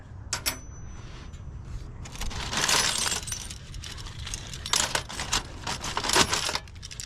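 Brass keys clink and jangle while non-ferrous scrap metal is sorted, with several sharp metallic drops and rattles spread irregularly across the stretch, close by and otherwise quiet.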